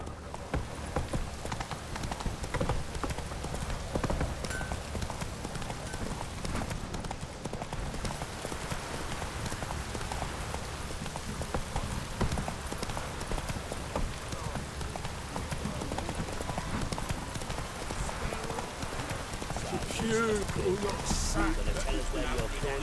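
Horse hooves clip-clop steadily in The Witcher 3 as the mount trots along, with rain-like ambience and game sounds around it and a voice talking over the hoofbeats.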